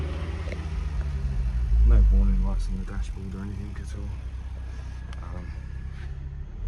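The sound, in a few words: Ford Focus ST-500 engine with standard exhaust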